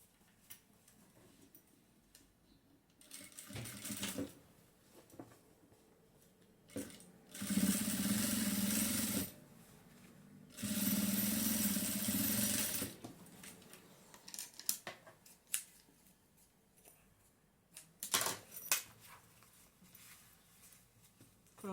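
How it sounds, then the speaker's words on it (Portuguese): A sewing machine topstitches a seam on a denim bag in two steady mechanical runs of about two seconds each, with quieter clicks and handling noises before, between and after. "agora eu vou rebater essa costura"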